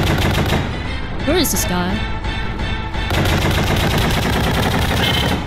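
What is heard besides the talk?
gunfire in a pony video game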